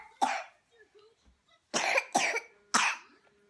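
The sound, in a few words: toddler coughing hard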